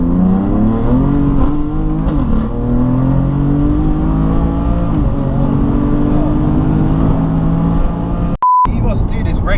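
BMW F80 M3 engine pulling hard under acceleration on an open road, a steady loud drone with rising harmonic sweeps as revs climb, people talking over it inside the cabin, and a short electronic beep near the end.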